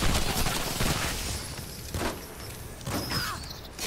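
Machine gun fire from the video game Shadow Warrior 2 rattles in a continuous dense stream, strongest at the start and easing into scattered bursts and mechanical clatter.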